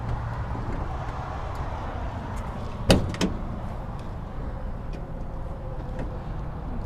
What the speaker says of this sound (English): Let's open up these rear doors.